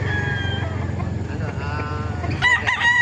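A gamecock crows near the end at a poultry market in Bocaue, Bulacan, a short rising call heard over a busy background of other birds and farmyard noise.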